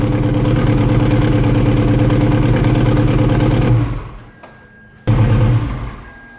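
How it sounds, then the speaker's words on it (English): A 2005 Ferrari 360 Modena engine idles loudly, then shuts off with a winding-down rumble as the crankshaft stops, a brief lull, and a short final restart-like burst of mechanical noise. "listen to it turn off and see what it sounds like when the crankshaft comes to a stop"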